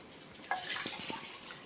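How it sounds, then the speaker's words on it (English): Tap water poured from a jug into two containers: a close splashing, trickling pour that starts abruptly and runs on briefly at moderate loudness. "we're going to take tap water and we're going to fill these two things here real quick"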